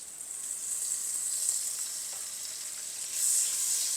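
Butter melts and sizzles in a pan heated over a medium flame, a steady close frying hiss that swells slightly near the end, with no voices.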